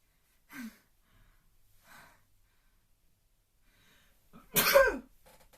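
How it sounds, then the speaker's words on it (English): A single sharp, explosive sneeze bursts out near the end after a few faint breaths and sniffs in a quiet room. "Oh, I'm going to sneeze."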